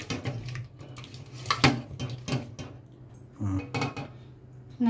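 A utensil stirs and scrapes through a curd marinade in a bowl, giving close repeated clinks and knocks in an uneven rhythm over a low background hum.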